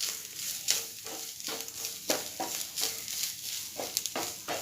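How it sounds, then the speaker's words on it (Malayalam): Spiced tamarind seed sweet is stirred in a pan, a spoon dragging and tapping in repeated strokes over a constant soft sizzle, close and moderately loud. "ഇനി ഇത് ഒന്ന് ഇളക്കാം."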